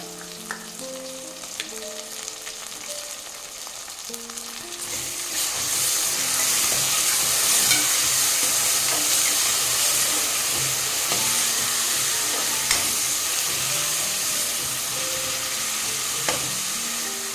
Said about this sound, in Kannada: ಇದು ಚೆನ್ನಾಗಿ ಫ್ರೈ ಆದಮೇಲೆ 3-4 ಟೇಬಲ್ ಸ್ಪೂನ್ ಅಷ್ಟು ಮೊಸರು ತಗೊಂಡಿದ್ದೀನಿ. ಇದನ್ನು ಹಾಕ್ತಾ ಇದ್ದೀನಿ.